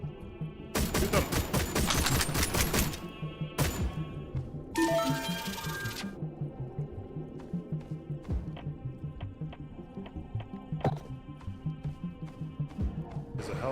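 Shooter video game gunfire: a loud sustained burst of rapid shots, then a second heavy burst, followed by a long quieter stretch of regular pulsing shots and occasional sharp impacts.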